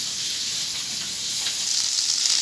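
Snakehead fish fry in hot oil in a pan, giving a loud, continuous sizzle that swells slightly toward the end, with no voices.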